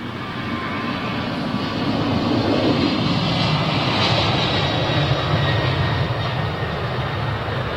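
A Boeing 767 jet at London Heathrow Airport roars past, a broad, loud rushing engine noise that swells and holds steady with no one speaking.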